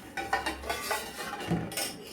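A spoon stirs raw mango sarbat in a glass with water and a pinch of salt, making a quick run of light rhythmic clinks and swishes close by.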